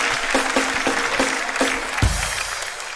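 A live comedy show audience claps for two performers, giving a few seconds of mid-level crowd applause with a thump partway through, then thinning out.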